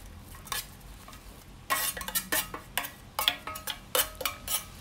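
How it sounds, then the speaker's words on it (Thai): Vegetables and mushrooms go into a simmering pot of Thai kaeng liang curry with red ant eggs and wild sweet leaves: a run of close, uneven clatters and stirring knocks against the pot, with no talking. "พอน้ำเริ่มเดือดขึ้นมาอีกรอบนึงเราก็จะใส่พวกเห็ดพวกผักลงไปเลยค่ะ"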